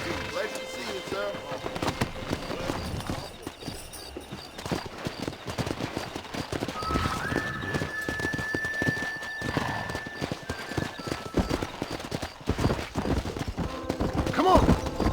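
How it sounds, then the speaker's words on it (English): Horse hooves clip-clop steadily in the video game Red Dead Redemption, with a brief neigh and outdoor ambience, while voices talk over the rhythmic hoofbeats throughout. "Let's see if we can't wrangle some horses."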